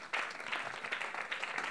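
A church congregation breaks into brief, steady applause, a dense wash of many hands clapping at moderate distance for under two seconds.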